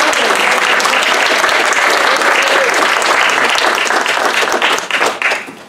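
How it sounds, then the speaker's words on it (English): A church congregation gives a strong round of applause at a worship service, dense and close clapping that holds steady and then tapers off near the end. "let's give a round of applause for"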